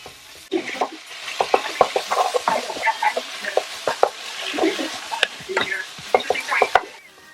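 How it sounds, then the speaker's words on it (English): Ground beef browning in a hot pan while a spoon breaks it up, giving steady sizzling with irregular scraping and tapping strokes at close range, and no talking. "Break down the ground beef as it browns."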